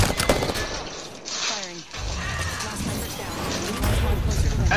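Dense gunfire from Apex Legends, loud rapid shots and impacts running nearly throughout, with a person talking over the shooting.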